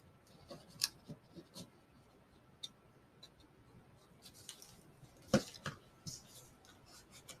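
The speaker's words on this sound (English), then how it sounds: "I'm going to go ahead and round the edges of the flap." Scissors rounding the corners of a paper envelope flap: sparse, soft snips and light clicks spread out over several seconds, with one sharper cut standing out, close and quiet.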